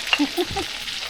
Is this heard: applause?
no